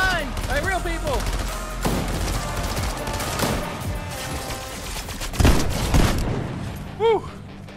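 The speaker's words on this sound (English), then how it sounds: "we're being shot from behind! By real people!" Gunfire rattles through a Fortnite match in bursts and scattered shots, some close and some more distant, layered with other game effects while players talk and shout over it.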